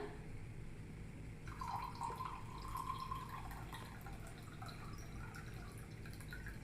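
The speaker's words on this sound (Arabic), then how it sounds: "غادي نخوي عليه ماء غليان" Boiling water poured into a container makes a quiet, steady trickling stream that rises and fades over a few seconds, faint and close.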